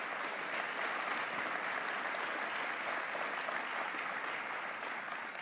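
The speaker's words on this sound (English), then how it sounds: "Let's give them a round of applause." Sustained applause from a crowd at a regional county cabinet meeting in Southern Maryland, an even, steady roar of many hands clapping heard from a distance, with no one speaking over it.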